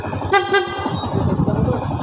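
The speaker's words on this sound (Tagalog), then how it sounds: "Iba na yung busina ko, ne?" A short double honk of a vehicle horn sounds over rumbling traffic and engine noise.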